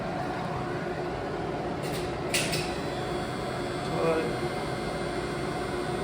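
A single-speed Zilleberg motor drives an elevator machine with some oil leaks, giving a steady, continuous mechanical hum and whir close by, with faint brief higher tones and a voice barely present.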